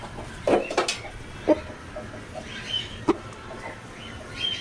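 A one-eyed fighting rooster kept on a terrace gives short, scattered clucks and calls at moderate distance, with a couple of louder bursts between quieter stretches.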